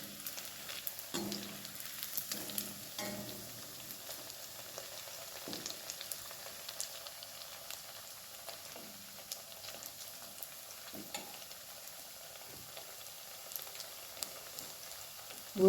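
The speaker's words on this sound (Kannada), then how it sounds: "ಹೀಗೆ ಎಣ್ಣೆಯಲ್ಲಿ ಕರೆದರೆ" Idli pieces deep fry in hot oil, with a soft, continuous bubbling sizzle and scattered faint crackles and pops over a quiet background, no voices.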